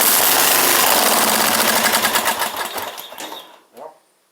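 A Murray 42-inch wide body riding lawn mower engine sputters to life on ether, running with rapid mechanical chatter for a few seconds before dying out and giving one last brief cough.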